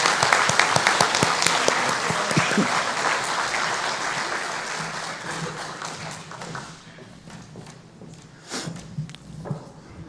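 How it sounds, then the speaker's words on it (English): Members at an annual general meeting give a round of applause, a dense clapping that fades out over several seconds into scattered claps, thumps and room noise. "ask the membership to give Brad a round of applause for his remarkable service"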